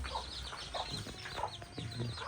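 Several chickens, including a hen with young chicks, cluck and chirp close by in a store room in soft, irregular bursts, with some brief rustling among them.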